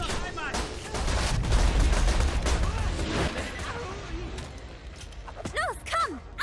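Rapid bursts of cannon fire from a machine-gun-like weapon in the video game Borderlands 2 crack loudly and densely, layered with explosions and game effects while someone talks over the action.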